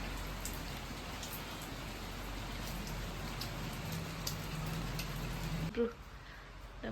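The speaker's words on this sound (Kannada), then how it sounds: "ನಾನು ಇಷ್ಟು ಜೋರು ಮಳೆ ಬಂದೋಗೈತೆ" Heavy rain pours steadily and loudly, a dense hiss of drops on surfaces that stops abruptly near the end, with a faint voice briefly audible.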